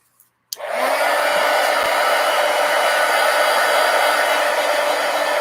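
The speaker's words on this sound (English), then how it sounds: "Now I'm going to hit this with the heat gun." A heat gun switches on with a click and blows a loud, steady roaring hiss of hot air over a mixed media napkin journal, continuous and close with no speech.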